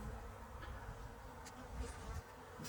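Honeybees swarming over a hive frame during a queen-rearing check, a faint continuous buzzing hum with soft rustling and occasional louder wingbeats close by.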